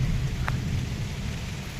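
Rain pours down in a stormy wind, a steady broad hiss with a deep rumbling undertone and one brief brighter tick, loud and close, with no one talking.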